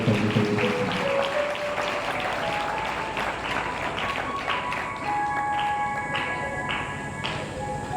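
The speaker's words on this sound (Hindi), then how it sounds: "तालियां बजाकर महिमा करेंगे परमेश्वर की।" A church congregation at a Sunday meeting claps in praise of God, a dense steady wash of applause running throughout, with faint voices or music tones above it.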